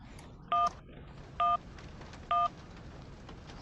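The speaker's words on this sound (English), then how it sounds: "You get different phone numbers and can call people." Three evenly spaced touch-tone beeps sound as a telephone is dialed in the Syberia adventure game, crisp and fairly loud over a low steady background hum.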